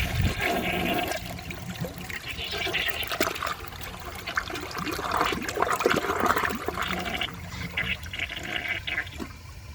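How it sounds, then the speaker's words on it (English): A 1990 Peerless Concealed Jet toilet flushes while being hand plunged, a steady rushing and gurgling of water with sloshing bursts over nearly ten seconds, close and moderately loud. "I'm gonna give this one last flush to try and get the rest out"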